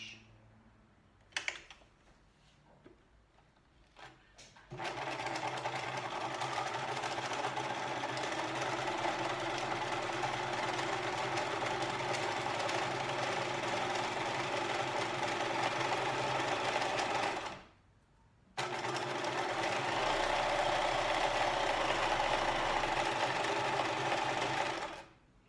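Sewing machine stitching a seam, a steady close whirring hum running in two long bursts separated by a short pause, preceded by a few clicks and handling noises.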